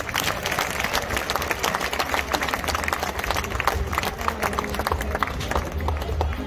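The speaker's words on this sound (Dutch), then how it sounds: "We gaan fijn applaus geven." A crowd at an outdoor cycling race applauds a cyclist, a dense, steady patter of many hands clapping throughout, moderately loud and continuous with no break.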